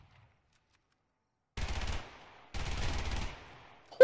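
PPSh submachine gun fire in the video game Survarium, heard as two short rattling automatic bursts after a moment of silence, loud and close, with a brief sharp sound at the end.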